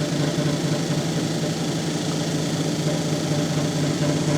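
Steady, unbroken whir of a lapidary polishing wheel working a piece of Montana moss agate, a constant motor hum with a low tonal drone and a broad hiss, close and even throughout.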